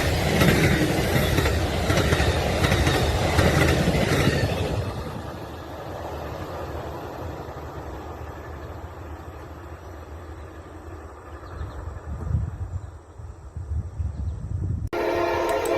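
Freight train PO48 rolls past loud and close, with an Amtrak locomotive trailing third in the consist. The heavy rumble and clatter are strongest early, then ease into a steadier roar that cuts off abruptly near the end.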